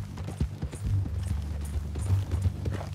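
Steady rhythmic clip-clop of horse hooves at a walk in Red Dead Redemption 2, close and continuous under a low rumble.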